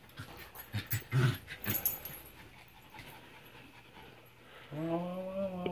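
Dogs play at night in an RV basecamp during heavy rain, with breathy panting and snuffling up close, a few louder bursts early on, then a whimpering, whining tone near the end.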